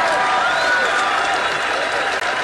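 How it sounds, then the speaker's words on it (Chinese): Loud, continuous audience applause fills an outdoor election-eve rally for a 2019 campaign, steady clapping from a large crowd with music tones and a voice mixed in underneath. "掌声鼓励。"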